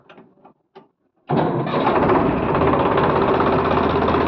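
Turbocharged pickup engine cranking over after a few faint clicks, then catching and settling into a loud, steady diesel-like idle that runs on alone without any talk.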